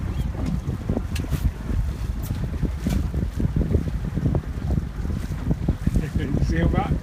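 A 12-year-old drives a motorboat across the water, its engine a steady low rumble mixed with wind buffeting and splashing, continuous and close throughout.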